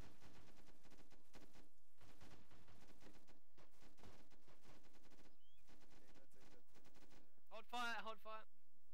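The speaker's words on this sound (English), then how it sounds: "Oh fuck, shots coming in. Round coming in." Incoming gunfire in the tactical shooter Insurgency: repeated bursts of shots crack through a steady background over several seconds, ending in a louder flurry near the close.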